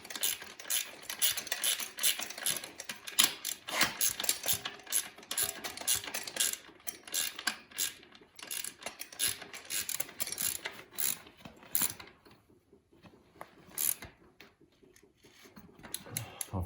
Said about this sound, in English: Go ahead and snug all the bolts back up.